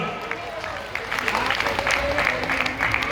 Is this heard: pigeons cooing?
no